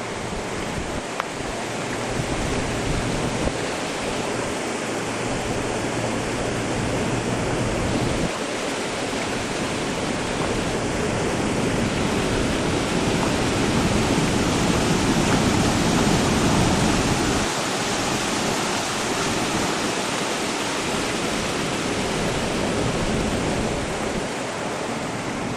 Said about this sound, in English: there's still a mighty good flow of water here